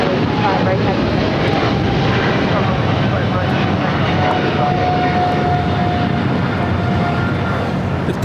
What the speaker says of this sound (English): That was Japan Airlines Flight 15 taking off to Tokyo Haneda on a 777-300ER.